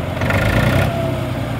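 A David Brown 770 tractor engine runs steadily at close range, a loud continuous diesel idle with a rhythmic low throb that carries on alone throughout.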